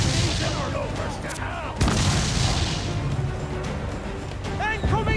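Cannon fire booms out during a ship battle in Assassin's Creed 4 Black Flag. A heavy blast lands near the middle, set in a dense roar of battle noise, with crew voices shouting over it.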